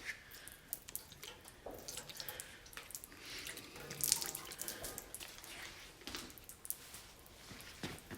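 Water trickling and splashing indoors as a cleaned shop part is rinsed off after degreasing, an uneven run of close, quiet drips and pours with no talking.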